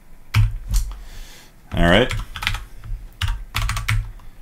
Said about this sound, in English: Some people are still typing.